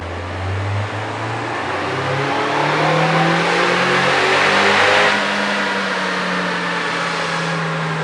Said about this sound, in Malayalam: ശബ്ദം മാറിയല്ലേ അക്രമ ശബ്ദമല്ല ഇൻടേക്ക് ശബ്ദമാണ്